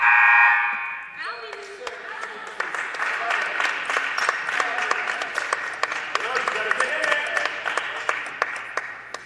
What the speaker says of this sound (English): Gets hand claps all around.